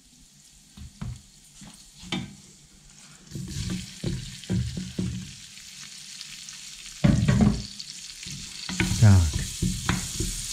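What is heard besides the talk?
onion frying in rendered bacon fat with caraway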